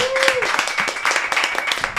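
An audience applauds the guests of a podcast recording, a brisk stretch of clapping with a voice briefly heard over it.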